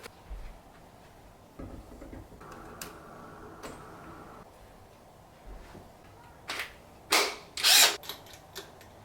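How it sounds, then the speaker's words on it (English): An IKEA power drill used at home to drive screws during an installation, heard in short whirring bursts amid quiet room noise, with a few sharp clattering knocks near the end. "I'm installing something by myself with my new IKEA drill"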